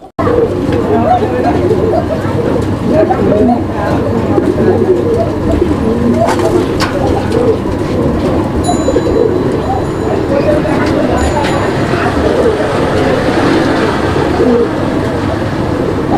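Indian white Bombay pigeons, a male and female pair, coo steadily and close by against a dense, constant bed of background noise, with people talking throughout.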